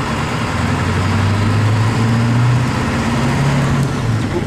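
A car with a manual transmission pulls away under load in third gear, its engine droning loudly and steadily with a rising turbo whine layered over the rumble, close and continuous, with no talking.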